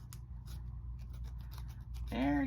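Scissors snip through paper in a few short, close cuts, ending in a brief sharper scrape, quiet and without talk.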